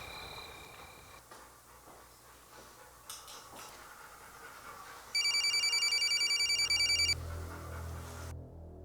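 A telephone rings with a rapid electronic trill for about two seconds amid quiet room noise.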